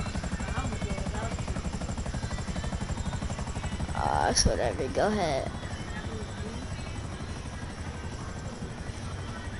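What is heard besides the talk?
helicopter flying in video game GTA 5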